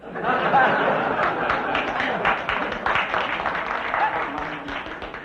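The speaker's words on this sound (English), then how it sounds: "I didn't see any necessity for applause at that remark" Studio audience applause on a vintage comedy quiz show, steady clapping with scattered chatter and laughter spread evenly across the whole stretch at moderate loudness.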